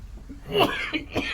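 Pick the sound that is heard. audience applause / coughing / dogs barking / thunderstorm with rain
coughing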